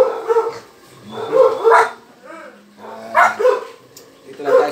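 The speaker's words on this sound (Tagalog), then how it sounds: "Yung aso." A dog barks several times in short bursts, mixed with people talking nearby; moderately loud and close.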